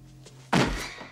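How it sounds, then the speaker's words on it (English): A kick lands with one sudden, heavy thud in a fight scene from the Chuck Norris action movie Invasion USA, and a short ringing tail fades after the blow. "The second kick in the movie."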